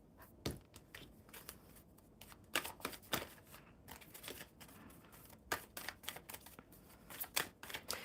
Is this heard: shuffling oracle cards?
yes